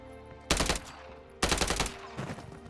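Bursts of automatic gunfire from Call of Duty: Modern Warfare 3 multiplayer, fired through walls: two loud, dense rattling volleys and a quieter third burst over a low game-ambience hum.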